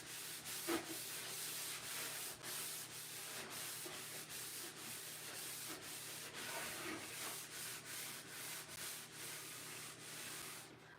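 Minwax Espresso stain being rubbed onto bathroom shelves with a cloth or brush, a steady soft continuous swishing and scrubbing texture that runs throughout, close and moderately quiet, with no voices.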